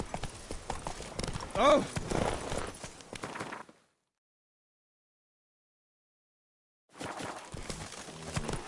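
Roach, Geralt's horse in The Witcher 3, gallops with loud rapid hoofbeats and a whinny, cut by several seconds of silence before the hooves resume; someone speaks briefly.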